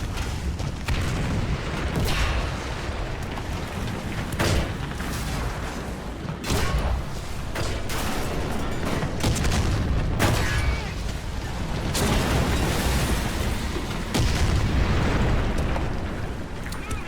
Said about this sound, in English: I force him to move with an artillery strike.